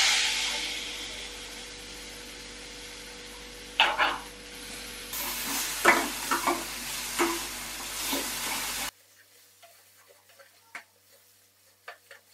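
Spices and nuts, including dried chilli, cardamom, turmeric, cumin and salt, frying in a pan, a steady loud sizzle with stirring clatters that drops away to quiet scattered taps near the end.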